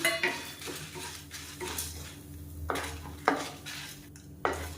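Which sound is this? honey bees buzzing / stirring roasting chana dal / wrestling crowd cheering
stirring roasting chana dal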